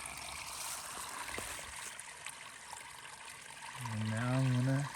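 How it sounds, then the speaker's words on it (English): Water trickling and running at a stream while collecting water on a hiking trail, a steady near wash that fills the whole stretch before a voice starts talking at the end. "I had to stop and collect some water."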